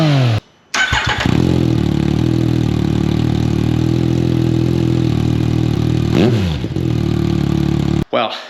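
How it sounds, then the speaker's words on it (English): Motorcycle fitted with an Akrapovic titanium racing exhaust with the dB killer removed, starting up and settling into a loud, deep, steady idle close by, with a short blip of revs near the end. "here is the inaugural sound of the Akrapovic Titanium Racing Exhaust with the dB killer removed"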